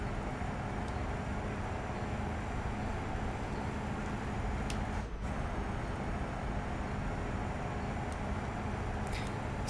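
A Ford Cargo truck drives along a mine road, its engine giving a steady, unchanging low rumble with broad road and wind noise, faint and continuous, with a couple of brief clicks and knocks.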